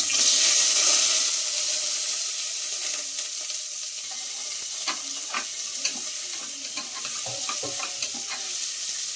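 Chopped onions dropping into a few spoons of hot oil for a jackfruit seed and channa curry, a loud initial sizzle that settles into steady frying crackle with scattered stirring clinks, close and without talk.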